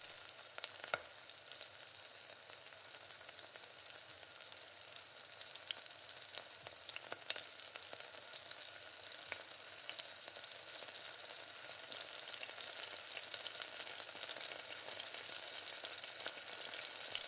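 Chicken 65 frying gently in oil on a low flame, a faint, continuous crackling sizzle with occasional sharper pops, steady throughout with no talking.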